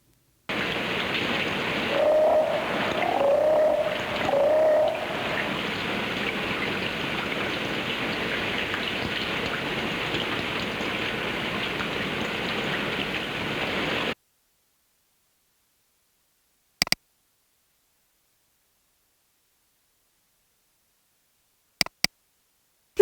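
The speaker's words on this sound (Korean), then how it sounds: "소나기" A rain shower hisses steadily for about fourteen seconds, with a few faint tonal chirps early on, then cuts to near silence broken by brief clicks.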